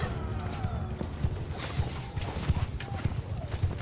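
Horse hooves in the medieval battle game Mount & Blade Bannerlord, a quick clip-clop gallop with a brief whinny, hoofbeats thudding steadily under a busy battle din while someone talks.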